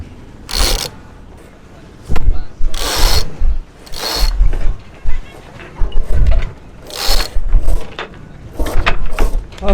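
Sailboat traveler hardware is worked by a lone sailor in a series of loud, close ratcheting and clicking bursts. Rope rattles through blocks between quieter gaps, and the whole thing repeats roughly every second or two.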